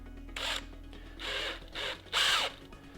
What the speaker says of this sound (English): I just got a 9/32 drill bit and literally just drilled the inside of this